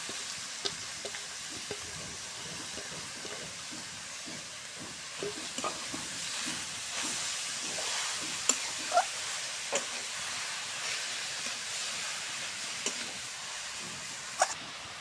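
Grated carrots cook in a pan for beet and carrot laddoos, giving a faint continuous sizzle with light scattered stirring taps throughout.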